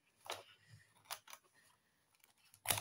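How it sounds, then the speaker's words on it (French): Scissors cut through recycled craft material in a few short, crisp snips spaced over a couple of seconds, with a sharper final snip at the end. "Est-ce que j'ai encore une paire de ciseaux? Oui. Donc, on va couper."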